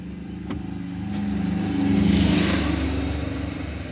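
A BS6 vehicle's engine runs after an SCR system fault repair, idling steadily near the microphone and swelling louder at mid-clip before settling back to a smooth hum.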